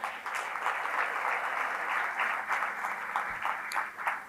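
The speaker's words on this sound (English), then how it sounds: "Let's give them a round of applause." Audience applause for finalists at an awards gala, a continuous, even wash of clapping from a large crowd heard at moderate distance, with a few sharper claps near the end.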